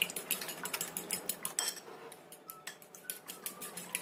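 Two eggs beaten in a bowl, a rapid run of light clinking taps of whisk or fork against the bowl, steady and fairly close, with no talking.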